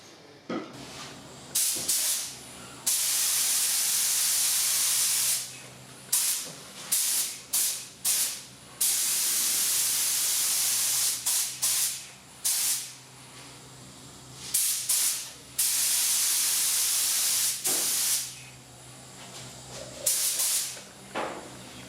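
A spray gun applies epoxy primer to a panel on a Ford TF Cortina, giving repeated loud hissing bursts of varying length with short quiet gaps between them.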